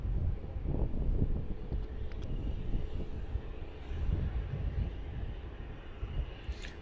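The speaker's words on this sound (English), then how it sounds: "Sharman's taxiing out in the background." An airliner taxis out at Melbourne Airport, its steady engine rumble and whine continuous with gusting wind noise over the microphone, fairly distant and without talk.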